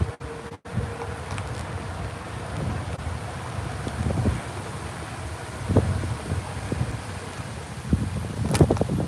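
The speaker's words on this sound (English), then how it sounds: "It's a nice breezy day." Steady wind blusters outdoors on a breezy day, a continuous rushing buffet against the microphone, with faint knocks and movement sounds scattered underneath.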